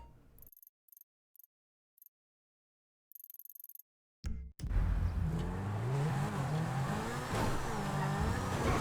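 A car in GTA V is driven straight and launched through a broken wall, dropping onto a freeway below. Brief clicks and gaps come first, then a loud, steady engine roar carries through to the end.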